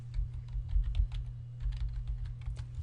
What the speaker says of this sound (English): just type in localhost